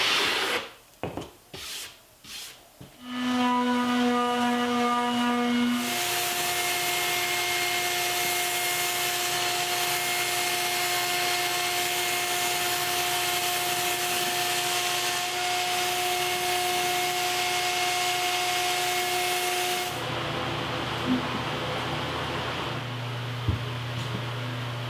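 Wood parts of a cherry or sapele platform bed are sanded, a few scraping strokes at first, then a long steady powered whine with a droning hum that continues to the end.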